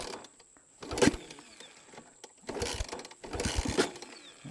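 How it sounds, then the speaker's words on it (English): A Trailmaster TM 31 engine is kick-started in two close mechanical bursts, each a ratcheting kick lever stroke with brief churning, separated by quiet pauses, without catching. "So let's try the kickstart."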